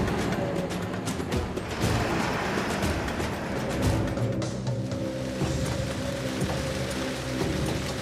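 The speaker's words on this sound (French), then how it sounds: "Depuis des heures, Ajay roule sous une pluie torrentielle." Torrential rain drums on a truck cab during a drive, a dense, loud, continuous patter over the low rumble of the engine and road.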